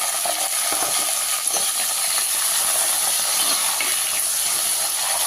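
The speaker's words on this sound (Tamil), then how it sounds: "எண்ணெய் காஞ்சிருச்சுங்க இந்த கத்திரிக்காய் போட்டுக்கலாம்" Eggplant pieces frying in hot oil in a pan, a steady, dense crackling sizzle throughout with small pops and no voices.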